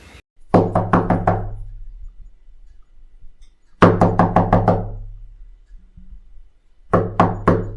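Knocking on a house door in a Hindi cartoon household: three separate bursts of four or five sharp, close raps each, spaced a few seconds apart, with no talk over them.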